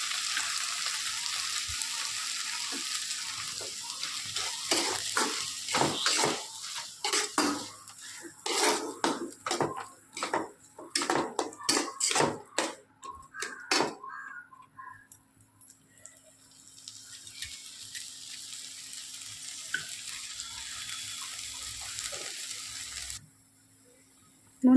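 Soybean frying in ghee in a pan over a gas flame: a steady high sizzle runs throughout, broken midway by a string of sharp clinks and scrapes of a spoon against the pan, then the sizzle continues alone.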